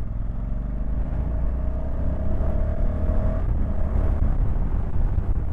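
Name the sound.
Honda CRF1100L Africa Twin motorcycle accelerating in third gear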